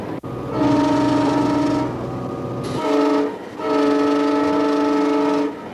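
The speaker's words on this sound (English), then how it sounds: "As she brings the train into a station, Vita must learn the right timing" A train pulling into a station, with steady harmonic brake squeal and rail noise that drops away briefly and then returns, close and loud, with no talking.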